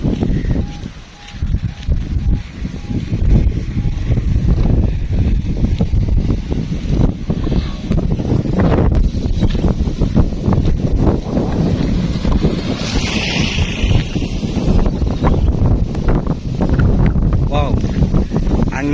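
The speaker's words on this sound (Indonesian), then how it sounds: "Anginnya lumayan kencang, segar sekali udaranya di sore hari ini." Strong afternoon wind buffets an open countryside garden near a river, a loud, steady rushing roar with gusty swells battering the microphone throughout.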